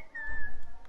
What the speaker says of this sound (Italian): Perché il fischio viene molto vicino.